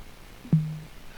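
VoiceAttack key-up tones in the DCS UH-1 Huey flight simulator give a single short, low electronic beep that is clear but moderately quiet over faint background hiss.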